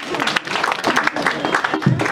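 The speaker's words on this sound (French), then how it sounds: "On peut applaudir pour notre ami." An audience applauds during a community meeting for a commune project, a brief burst of clapping mixed with voices talking over it.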